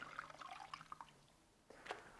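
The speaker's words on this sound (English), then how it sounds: "Squeeze it out a little bit." Sheepskin squeezed out in soapy water in a sink, giving faint, scattered drips and small trickles with a brief splash near the end, quiet and close with no talking.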